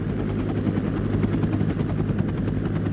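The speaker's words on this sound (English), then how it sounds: "Pilot Craig Cowley flew the helicopter as low as he safely could in the dark" Low-flying helicopter at night over a snowy mountain canyon during an avalanche search, its rotor thumping steadily and loudly throughout with a constant engine drone, no voices.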